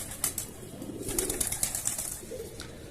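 Pigeons coo in soft, repeated low calls close by, with a few light wing flutters and faint background noise.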